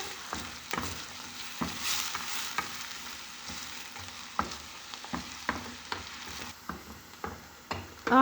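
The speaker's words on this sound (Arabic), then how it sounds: "هنقلب في البصل لحد ما تدبل." Onions fry in a pan while being stirred, a soft continuous sizzle under repeated sharp clicks and scrapes of the utensil against the pan, close up and without talk.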